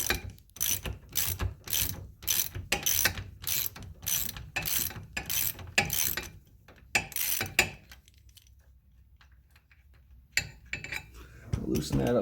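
A ratchet loosens 13 mm bolts on a 2012 Polaris Sportsman 850 ATV during a ball joint replacement: close, crisp bursts of rapid clicking in a steady rhythm, then a brief lull before the clicking resumes.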